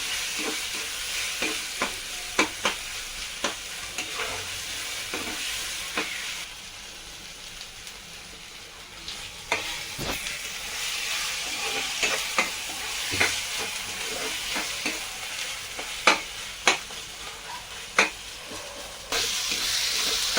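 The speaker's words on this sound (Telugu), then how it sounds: "టమాటా వేస్తున్నా, 3 టమాటాలు కట్ చేస్తున్నా" Chopped tomatoes frying in a pan with ginger-garlic paste for a veg curry, a steady loud sizzle broken by repeated scraping stirs of a spoon against the pan, close up.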